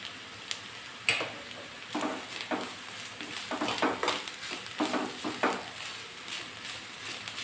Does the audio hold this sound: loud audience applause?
no